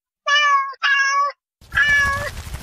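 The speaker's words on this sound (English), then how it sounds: "Cat." A cat meows three times, two quick close meows followed by a longer one over a faint rumbling background.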